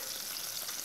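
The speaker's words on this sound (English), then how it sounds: "Skin side first. You want to make nice crispy skin." Mackerel fillet frying skin side down in a pan over medium heat, giving a steady, even sizzle with broadband crackle throughout and no talk.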